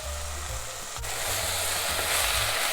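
Minced garlic and ground cumin sizzle steadily in a soup pot as they are stirred, with a constant close frying hiss and soft, regular scrapes from the spoon. No one speaks.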